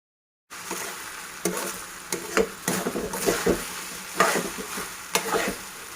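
Boiled rice stir-fried on high flame for restaurant-style veg fried rice, a bright sizzle that starts abruptly, punctuated by several sharp scrapes and tosses of the spatula against the pan, near and without talk.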